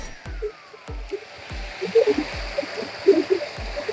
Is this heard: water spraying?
yes